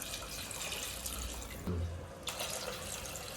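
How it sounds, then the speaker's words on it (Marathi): Water pours steadily into a pot of chicken curry, a continuous rushing splash with a brief change in tone midway. "आणि यात पाणी टाकते."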